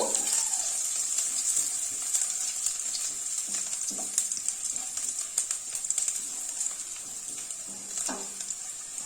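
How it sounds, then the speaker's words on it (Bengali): Six or seven crushed garlic cloves fry in oil in a pan while a Bengali bean paste dish is cooked. A faint, steady sizzle runs throughout, broken by a few light clinks of a utensil, with no talking. "ছ সাত কোয়া রসুনকে আমি একটু থেঁতো করে রেখেছিলাম সেটা দিয়ে দিলাম দিয়ে এটাকেও একটু ভেজে নেব"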